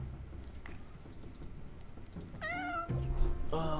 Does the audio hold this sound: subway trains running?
no